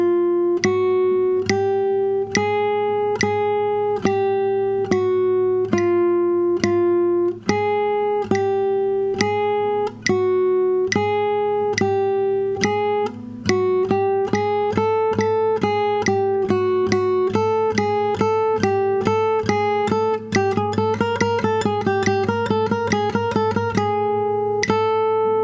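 Classical guitar plays a steady warm-up exercise alone, plucked notes moving from even quarter notes to eighths and then fast sixteenths, clear and close with a sustained bass drone underneath.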